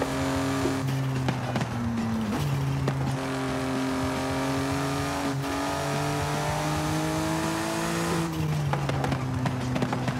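A BMW i8 in the racing game Forza Horizon 5 drives continuously, its engine note rising and falling through gear changes with steady revving, loud and close throughout with no talk over it.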